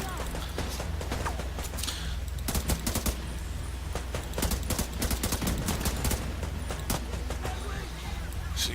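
Rapid bursts of automatic gunfire and scattered single shots from a firefight in The Division 2, crackling steadily for several seconds over a constant low rumble, with a voice talking now and then.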